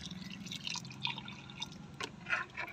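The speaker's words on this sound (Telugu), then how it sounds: "కాఫీ పొడి వాటర్ వేస్తున్నాము." Coffee-powder water splashes onto garden plants in soft drips and trickles, with irregular brighter spatters near the end, close up and quiet, no voices.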